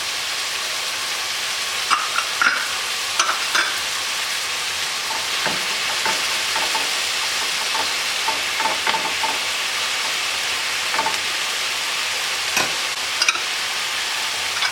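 Small diced yellow and red sweet peppers and garlic cloves sizzle steadily in a hot pan, a continuous close frying hiss with scattered pops and stirring scrapes throughout, no voices.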